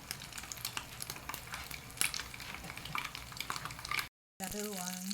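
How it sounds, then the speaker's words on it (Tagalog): Sweet ham frying in a pan, a close crackling sizzle with scattered pops and utensil clinks, broken by a brief cut, with a voice speaking near the end. "Fry ko muna itong sweet ham. Fry this 1 minute per side."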